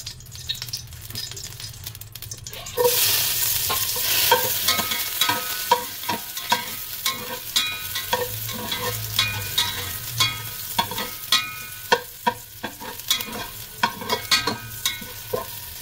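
Garlic sautés in a little hot oil in a wok-style pan for papaitan, a loud continuous sizzle bursting up suddenly, then stirred with repeated scraping clinks of a utensil against the pan.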